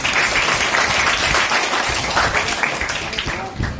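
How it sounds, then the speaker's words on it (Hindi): Students at a motivational lecture at a government polytechnic in Nagpur clap for classmates who raised their hands, a dense burst of applause from a crowded room mixed with voices throughout. "जिन लोगों ने हाथ ऊपर किया इनके लिए ताली बजाइए।"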